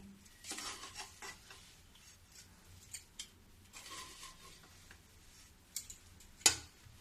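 A laddu mixture is stirred together with besan on a metal plate, giving faint scraping and light clinks of utensil against metal, with soft irregular taps and no talk.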